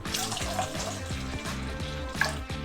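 Milk poured into a mixing bowl on a kitchen scale for burger bun dough, a steady continuous liquid stream gurgling into the bowl, close and fairly loud with no talking.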